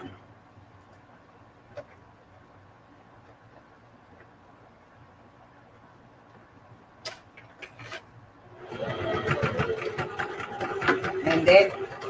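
A sewing machine back stitches near the zipper of a small beginner's duffle bag. After a quiet stretch with faint rustling and clicks, the motor starts up and runs steadily and loudly to the end.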